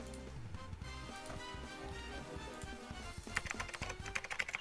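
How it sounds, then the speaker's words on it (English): Rapid computer keyboard typing plays as a sound effect for a meme video game, a steady dense clatter of key taps that grows slightly louder and more pronounced near the end. "we need to play the keyboard typing sound as it's being typed out"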